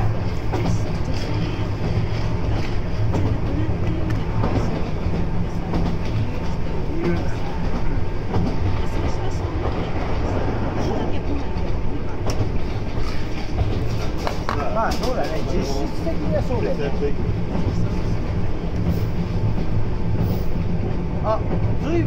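An Izukyu train departing a station rumbles continuously with low clattering wheels and rail noise, steady and close throughout, heard from aboard, with occasional voices in the background.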